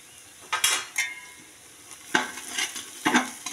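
Masala fries in ghee in a pan for biryani, with scraping stir strokes and short bursts of sizzle in an uneven rhythm. The bursts are clear and close, and no one speaks.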